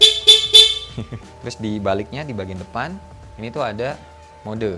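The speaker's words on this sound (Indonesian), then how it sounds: "Klakson standar bunyinya gini." Three quick honks of the standard horn on a 2025 Yamaha Aerox Alpha Turbo scooter sound close by, then someone talks.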